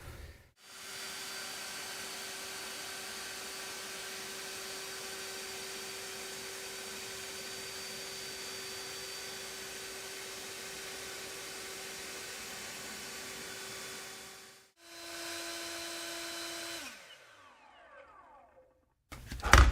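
EGO battery-powered leaf blower roaring at full power with a steady, loud whooshing whine and a constant motor tone. It drops briefly, revs at a lower pitch, then spins down to silence.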